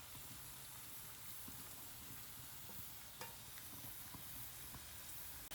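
Garlic sautés in a pan for a quick garlic pickle, giving a faint, steady sizzle and crackle that holds throughout with a few soft stirring scrapes.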